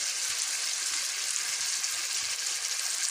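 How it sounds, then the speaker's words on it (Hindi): Half a kilo of chicken and a medium onion fry in half a cup of oil in a kadhai, making a steady, close, hissing sizzle that holds at an even level throughout with no talking. "कढ़ाई में मैंने हाफ कप ऑयल डाला, आधा किलो चिकन, एक दरमियानी साइज़ की प्याज डालकर मैं इसको फ्राई कर रही हूँ।"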